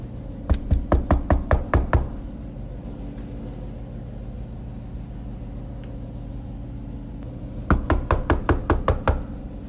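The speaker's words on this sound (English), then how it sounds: "let's knock on this one" Knuckles rap on a college dorm room door in two quick bursts of about seven sharp knocks each, loud and close, separated by a pause filled with low steady hallway hum.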